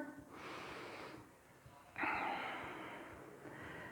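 Slow deep breaths during a yoga class held in warrior pose, broad breathy inhales and exhales filling the quiet room in two long waves, the second stronger and closer.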